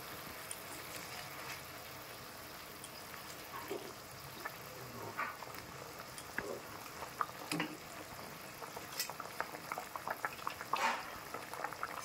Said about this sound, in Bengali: ঝোলটা ফুটতে শুরু করে দিয়েছে